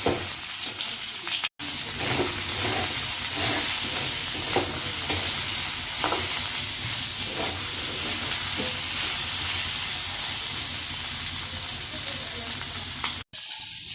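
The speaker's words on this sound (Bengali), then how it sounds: "আর আমি কিন্তু লো ফ্লেমে এটা ভাজতে থাকবো লাল লাল করে ভাজা ভাজা হবে" Soybean chunks frying in a pan over a low flame give a steady, close sizzle for the whole stretch, broken by soft scraping and stirring clicks, with no voices.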